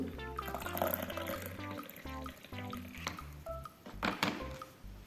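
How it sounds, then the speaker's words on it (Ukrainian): Water pours and splashes into a glass with a few clinks and thunks, close and fairly quiet, with no talking. "В склянку я наливаю воду."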